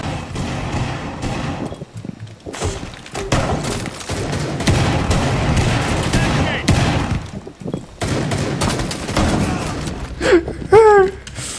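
Rapid bursts of gunfire and a booming grenade explosion in Rainbow Six Siege, loud and continuous, with excited voices talking over the action.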